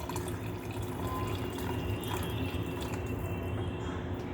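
Water poured into misal pav gravy, a soft, continuous trickle and splash of liquid running close by and fairly quiet, with no voices.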